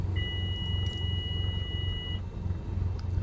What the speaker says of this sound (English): I wonder what that beep was. That sounded alarming.